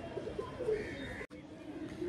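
A pair of Fulshila pigeons coo softly, a few faint low murmurs in a quiet setting.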